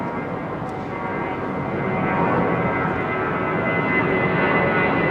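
Jet aircraft at London Heathrow Airport make a steady, moderately loud engine roar that slowly swells, heard at a distance with no talking.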